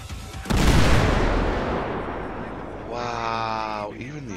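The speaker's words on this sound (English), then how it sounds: "to the grenade so you can hear the explosion" A grenade goes off in GTA V fitted with modded weapon sounds, a sudden loud boom that rumbles and slowly fades, followed by someone talking excitedly.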